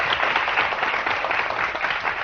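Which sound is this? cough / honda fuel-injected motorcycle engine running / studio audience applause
studio audience applause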